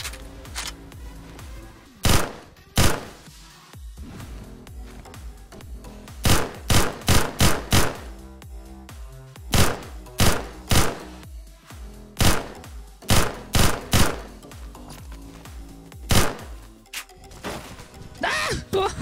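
The G11K2 rifle in Roblox Phantom Forces fires in short rapid bursts of loud cracks spread irregularly across the stretch, over quieter game ambience.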